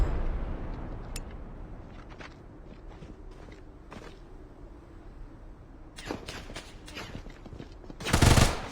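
Bursts of heavy gunfire in a shooter video game, scattered sharp shots at first, then a dense loud volley near the end, with no talk over them.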